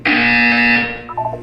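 A loud electronic buzzer from the video game Portal 2 sounds as a single harsh, tonal blast lasting under a second, then fades into a softer tail.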